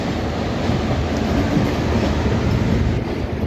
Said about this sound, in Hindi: ये देखिए यहाँ पे हुंकार भरता हुआ एक और इलेक्ट्रिक लोकोमोटिव तैयार हो रहा है अपनी एक ट्रिप के लिए